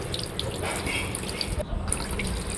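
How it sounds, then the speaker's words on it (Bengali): Flowers being rinsed under running water at a sink or tap for a home birthday puja, a steady close splashing wash with brief drips and a short pause near the middle. "তারপরে ফুলগুলো আমরা ধুয়ে নিলাম।"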